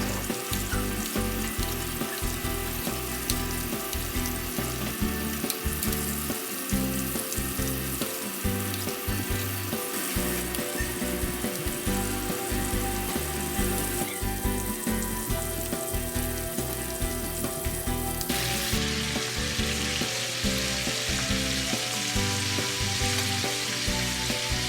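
Steak fillets marinated in truffle oil, salt, pepper and garlic fry in a cast iron skillet, giving a loud, dense, continuous sizzle and spatter that holds steady throughout with no talking.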